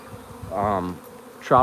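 A live honeybee swarm clustered in a ball, with loud buzzing that swells in waves, rising midway and again sharply at the end, heard close with no talking.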